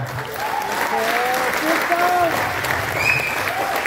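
Audience applause at a stage performance by transgender and jogati performers at a Rotary Club event, steady clapping for a few seconds mixed with high voices and whoops.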